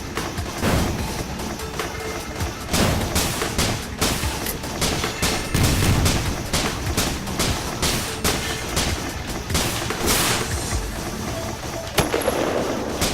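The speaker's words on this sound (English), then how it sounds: "Let's see if we can't use this cannon to do a lot of damage to him." A cannon fires repeatedly in the video game Risk of Rain, loud rapid blasts and booming impacts coming in dense bursts over about thirteen seconds amid heavy game action, with no talking.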